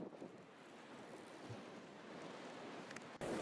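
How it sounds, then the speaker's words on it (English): Irish Sea waves surging up promenade steps at the water's edge, a steady loud wash of churning surf and wind buffeting the microphone, with no voices. "We return to water's edge with the Irish Sea desperately trying to climb the steps here"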